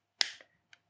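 Wire cutters snip an overlong LED lead on a circuit board with one sharp, close click, followed by a fainter tick.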